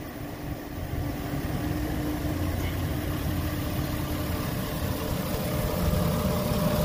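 A 2007 Jeep Liberty with about 48,000 miles idling at a steady, even rumble, close and continuous with no voices.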